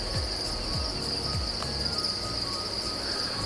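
Farmed crickets chirping in a steady, high-pitched continuous trill, close and even throughout, with faint low thumps underneath and no speech.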